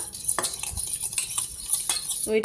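A bowl of sour yogurt with Kashmiri chili powder being whisked for a vegetarian Kashmiri dum aloo, giving close, quick scraping and tapping strokes against the bowl in an uneven rhythm with no talking.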